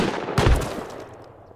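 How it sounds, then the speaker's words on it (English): Automatic turret in the survival video game Rust opening fire, a short loud burst of rapid gunshots that spikes suddenly and then trails off into a fading reverberant tail, with no talking. "Oh no, there's a turret up there!"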